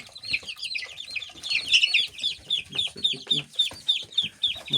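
Live chicks cheep nearby on a farm in a fast, steady run of high, thin peeps, with some softer rustling and clucking underneath.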